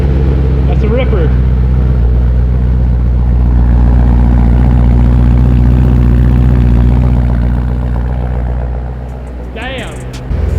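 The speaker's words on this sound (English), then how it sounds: "We have yet to do a cold start for the boys with the valves open" A BMW M3 started cold with its exhaust valves open in snowy conditions, a loud, deep, rumbling idle with heavy low-end drone that eases slightly before a short revving burst near the end.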